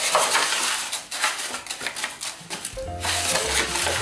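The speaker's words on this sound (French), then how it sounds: "Et puis on va remuer la semoule" Couscous semolina stirred in a bowl right after water is poured in, a near, gritty scraping and rasping with uneven strokes, ending in a few duller knocks.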